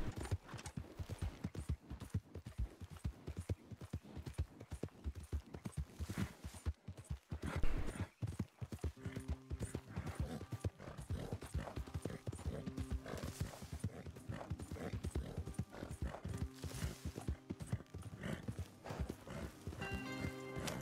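Hooves of a horse in Red Dead Redemption 2 clop in a fast, continuous galloping rhythm, with a neigh partway through and faint game music and background sounds underneath.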